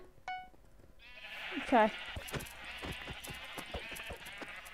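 Sheep bleating in the Minecraft MinerWare minigame, a wavering bleat near the middle among clicks, plops and game music, with a player's brief voice at the start.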